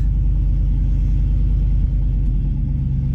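A truck engine runs at idle just after starting, with a steady low rumble and a rhythmic pulsing throb, close and loud, no talk over it.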